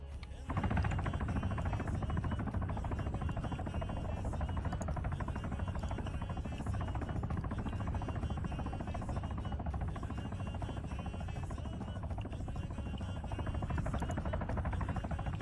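An Apache helicopter in a military video game gives a steady, loud rotor drone that holds evenly for the whole stretch, a continuous buzzing whir with no break.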